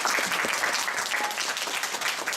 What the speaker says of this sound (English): Can we give Helen and Christina another round of applause?